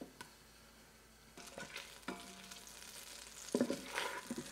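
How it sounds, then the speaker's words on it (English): Butter sizzles and crackles in a stainless steel slow cooker pot, with a soft steady fry punctuated by a few sharper pops and stirring clatters, fairly quiet and up close with no talking. "All right, we're sizzling away."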